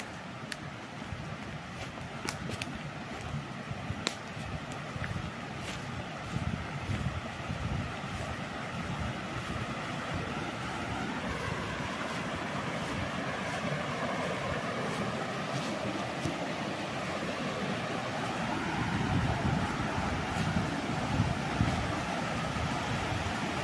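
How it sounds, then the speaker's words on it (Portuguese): Rushing river water flows near a waterfall at a countryside property in the hills, a steady broadband roar filling the scene continuously with some wind buffeting and no talking. "O barulho dessa água."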